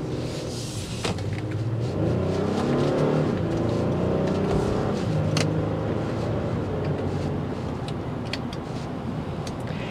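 2024 Honda Pilot Trailsport accelerating, heard from inside the cabin: a steady muted engine and road rumble that swells slightly, with a few faint clicks and rattles.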